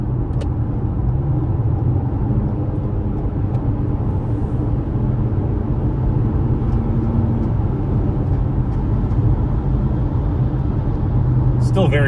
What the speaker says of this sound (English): I'm gonna go ahead and accelerate to pass, and you can see what I'm talking about here.